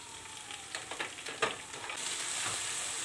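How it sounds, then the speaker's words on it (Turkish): Tomato paste sautéing with spices in a pan, a bright crackling sizzle with a few stirring scrapes, growing louder and denser toward the end, with no talking. "Şöyle salçanın kokusu çıkana kadar bir kavuruyorum"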